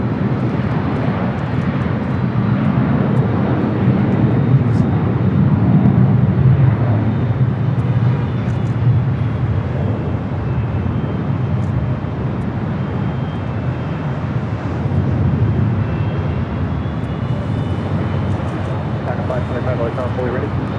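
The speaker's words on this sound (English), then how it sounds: "We have Florida 1 about to touch down here. Still on a 737-700." Southwest-style Boeing 737-700 in special Florida One livery touching down at LAX, a steady low jet rumble throughout, with people talking over it.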